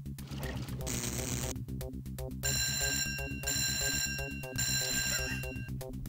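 A telephone rings in the Simon the Sorcerer adventure game, its bright bell tones repeating in bursts over a busy, rhythmic game music track.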